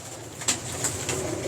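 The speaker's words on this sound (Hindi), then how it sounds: "सादा सा कबूतर है" Pigeons at a champion bird loft in Lahore coo softly, a few low repeated calls close by against a steady background hiss, with no talk.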